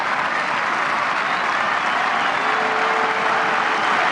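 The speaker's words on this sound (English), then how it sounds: "he will certainly get a sympathetic round of applause" Rugby league fans at a 1989-90 Yorkshire Cup Final against Bradford give a sympathetic round of applause for an injured player, a broad, steady roar of distant stadium clapping with crowd noise, continuous and fairly loud.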